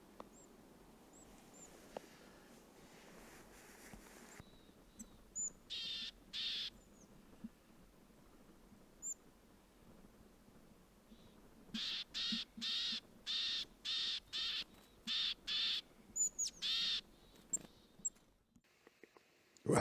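Birds call in snowy Abisko National Park, giving short, harsh, rapidly repeated calls in distinct bursts over near-silence. A single burst comes first, then a longer run of quick calls, all moderately close.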